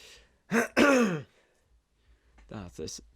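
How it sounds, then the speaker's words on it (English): A couple of harsh, throaty coughs from a persistent cough come close and loud, followed after a pause by quieter clearing and breathy sounds. "this is actually a persistent cough"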